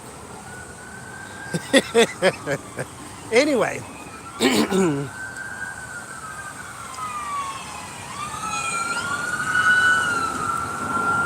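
Emergency sirens wail outside as vehicles pass, their rising and falling tones sweeping in after a few short bursts of a person talking and growing louder toward the end.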